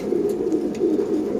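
Pigeons coo softly and repeatedly close by after drinking saline, a low rolling call carried by several birds with a few faint flutters.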